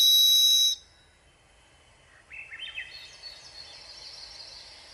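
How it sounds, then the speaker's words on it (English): A varied thrush gives a loud, buzzy, drawn-out whistled note, then thinner rising whistles follow, fainter and wavering. "share that varied thrush song and you can hear it for yourself"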